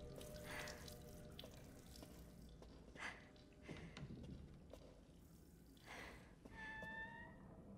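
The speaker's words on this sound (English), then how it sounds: "just running water in this economy." Running tap water in the video game Resident Evil Village: a faucet gushes into a sink with a steady splashing flow and a few louder surges, heard close with no voices.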